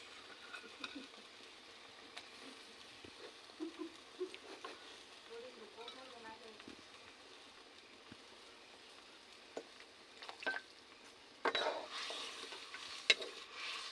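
Pieces of fried koi fish simmer in an outenga (elephant apple) curry with tomato, giving a quiet, steady bubbling and soft sizzle. Stirring scrapes and clinks come through, and a louder, busier stretch of cooking noise builds near the end.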